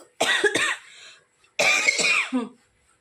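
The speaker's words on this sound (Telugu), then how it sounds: "కొద్దిగా మాట్లాడినా చేసినా దగ్గొచ్చేస్తోంది, పొడి దగ్గు" A person recovering from fever gives two harsh, dry coughs close to the microphone, each a short burst of two or three hacks, separated by a brief quiet gap.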